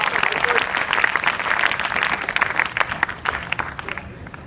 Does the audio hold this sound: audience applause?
yes